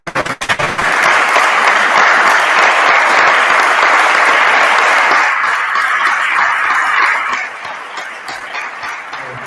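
An audience applauds at a Spanish-language lecture, dense and loud from the start, then thinning and fading out near the end.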